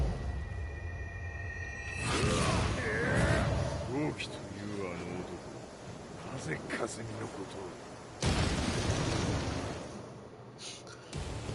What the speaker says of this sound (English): ended up in another explosion